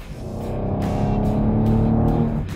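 A 2016 Chevrolet Camaro muscle car drives on Belle Isle in Detroit, its engine note a steady, loud rumble that swells as it accelerates over a couple of seconds, with no voices over it.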